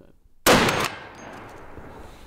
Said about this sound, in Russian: Давайте еще выстрел.